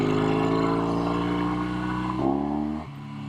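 A 1963 Triumph TR6 650 motorcycle engine idles loud and close with a steady throbbing drone, then its pitch dips and settles as the revs drop.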